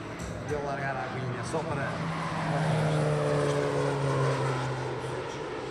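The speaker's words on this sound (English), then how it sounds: "The AT-802 is an agricultural aircraft which can be modified as here for firefighting duties" An AT-802 agricultural aircraft converted for firefighting drones overhead at an airshow, its propeller engine loud and steady with a rising then falling pitch as it passes, with a voice talking over it.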